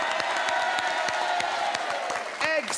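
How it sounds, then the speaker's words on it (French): A French TV game show studio audience applauds and cheers loudly in a dense, sustained wash of clapping, with a brief whoop or voice rising near the end. "je voudrais qu'on applaudisse quand même très fort"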